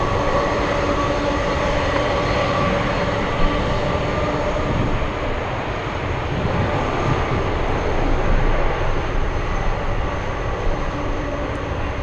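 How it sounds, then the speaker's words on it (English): A Singapore Airlines cargo plane flying toward DFW, spotted from the ground at an airport, gives a loud, steady jet engine roar with a constant whine that swells slightly toward the end, with no voices. "Singapore Airlines cargo flying to DFW."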